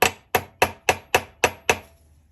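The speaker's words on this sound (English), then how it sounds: "let me peen this together" A hammer peens a two-piece dovetail clip together with seven crisp, ringing metallic blows at an even, brisk pace, close and loud with no talk.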